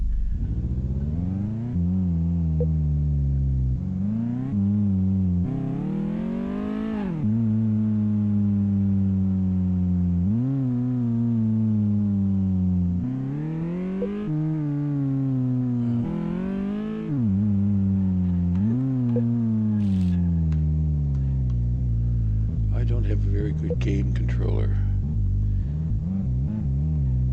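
Simulated car engine from Car Mechanic Simulator 2018 on a test drive, revving up and down repeatedly in a steady, loud whine with rising pitch sweeps, close and continuous, with a brief spoken remark.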